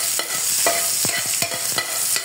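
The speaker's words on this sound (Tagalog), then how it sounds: "Gigisa natin itong ating luya muna." Ginger sautéing in a pan, a bright hiss of sizzling oil punctuated by several quick scraping strokes of a spatula, close and clear, with no voices.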